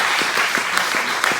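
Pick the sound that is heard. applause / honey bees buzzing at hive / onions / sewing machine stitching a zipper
applause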